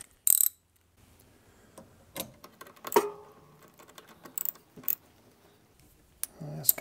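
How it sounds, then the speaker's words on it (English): Ratchet tightening a screw on a La-Z-Boy drive toggle clevis, a few sparse, close clicks and metallic clacks separated by quiet gaps, with no speech. "And you can finish up with a ratchet."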